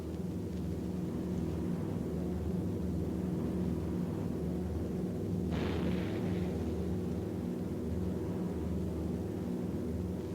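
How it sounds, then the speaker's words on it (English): An anti-aircraft flak barrage around a B-17 Flying Fortress bomber in 1944 wartime footage, a loud continuous engine drone with a sharp burst near the middle standing out over the steady roar. "the enemy knows the path of your approach and walls that path with a flak barrage"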